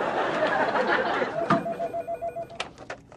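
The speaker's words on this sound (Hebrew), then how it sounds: "יש לי טלפון" A telephone rings in a short repeated pattern of bell-like tones, standing out clearly after a moment of background chatter.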